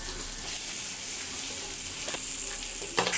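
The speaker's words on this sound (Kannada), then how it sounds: "ಆಲೂದು ಒಗ್ಗರಣೆ ಕೊಡ್ತೀನಿ" Potato curry tempering sizzling in hot oil in a home kitchen, a steady close frying hiss throughout with a couple of sharper crackles and spatters near the end.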